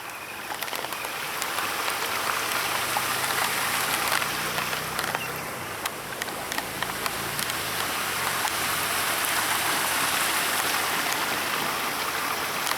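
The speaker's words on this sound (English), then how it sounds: "Anyway, here's the top of the waterfall." Water rushes over the top of a waterfall at Bull Creek as a steady, dense broadband roar that stays loud and unbroken throughout, with no voices over it.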